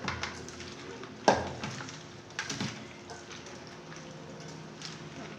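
Bitter gourds are wrung out by hand in a pot of water, producing soft, close dripping and squishing sounds with an occasional sharper knock.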